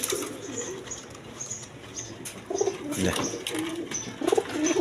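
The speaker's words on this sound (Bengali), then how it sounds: "এইখানে এক পেয়ার রেড কালার গররা কবুতর আছে দেখেন" A pair of red Gola pigeons, one hen sitting on two eggs, coo in low throaty bursts close by, with a few louder rolling calls and faint rustling between them.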